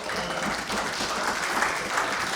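Steady polite clapping from a snooker crowd after a shot in a money match, continuous and moderately close, with no cheering.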